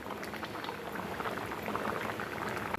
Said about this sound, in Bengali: এবার ঢেলে ফেলবো